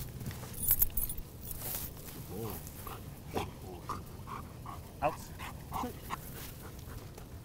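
A German Shepherd crossed with Belgian Malinois, working as a police dog on a search, makes soft whimpers and short vocal bursts amid rustling and jingling at close range, with a handler's voice now and then.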